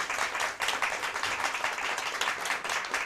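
Audience applause at a school math championship, a fairly soft, continuous crowd of hands clapping with a slightly uneven rhythm, heard alone and somewhat distant.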